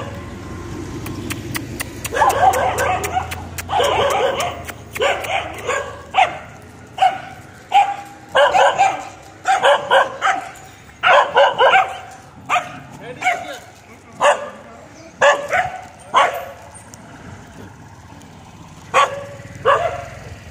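Dogs bark again and again outdoors, loud and irregular, mixed with yips and whimpers over a low traffic hum.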